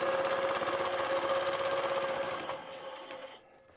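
A sewing machine runs continuously while quilting along a ruler template, with a fast, even stitching rhythm that slows and fades out toward the end.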